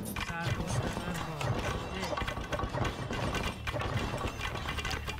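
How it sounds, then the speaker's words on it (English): Horses gallop in the strategy game 0 A.D., a busy stream of clattering hoofbeats mixed with clanking game effects, with a person talking over them. "Horses are just too fast,"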